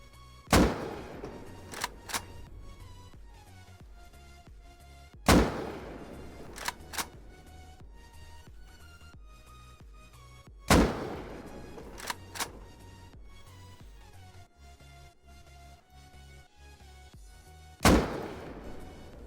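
Weapons with Muzzle Boost fire in the game Rust: four evenly spaced loud shots, each followed by a few quieter clicks and thuds, with quiet game ambience between them.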